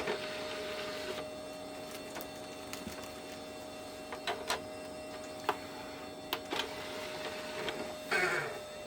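Original Xbox disc drive with a fault, giving off irregular mechanical clicks, ticks and ratcheting grinds over a steady electronic hum, close by and alone.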